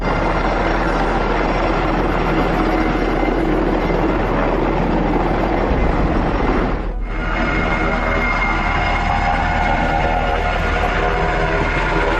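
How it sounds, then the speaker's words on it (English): Military helicopters fly low over city buildings during a training exercise, their loud, steady rotor and engine roar continuous throughout, briefly dipping near the middle. "Military helicopters conduct covert exercises over U.S."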